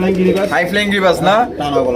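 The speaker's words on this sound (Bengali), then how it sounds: "দেখতে পাচ্ছেন গলা টাইপের শখের কবুতর" Hobby pigeons of the high-flying Giribaz type coo softly in rolling, throaty phrases, heard close and mixed with a person talking.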